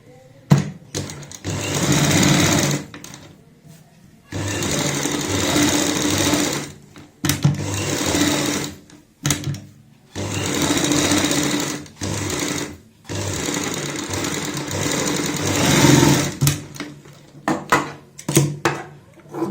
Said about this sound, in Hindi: यहाँ पे बुकरम के साथ साथ सिलाई लगाएंगे